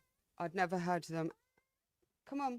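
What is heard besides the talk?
cat meowing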